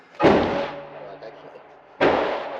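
Two loud gunshots from a Ruger Mark IV Tactical pistol on a range about two seconds apart, each a sharp blast followed by a rumbling decay.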